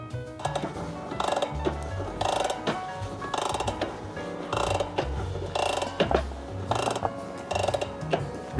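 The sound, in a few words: bicycle cassette being mounted on the freehub body, ratcheting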